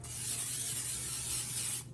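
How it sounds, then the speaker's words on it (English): A can of cooking spray hissing onto a pan in one continuous close burst of nearly two seconds, steady and bright before cutting off. "My little pan sprayed here."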